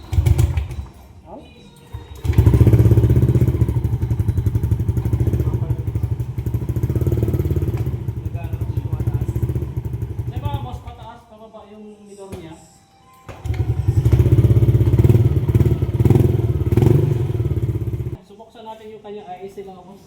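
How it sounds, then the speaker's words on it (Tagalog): A Yamaha NMAX V2 scooter engine with a suspected idle air control fault runs with a steady low drone, dropping off briefly midway before revving back up, then idling down again. "papaandar rin natin ulit itong motor."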